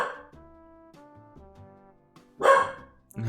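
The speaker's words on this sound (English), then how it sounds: "why is he barking again?" A dog barks in the Deep Sea Dating video game: a few tonal, drawn-out woofs and whines, then a sharper, louder bark near the end, clear and isolated with no talk.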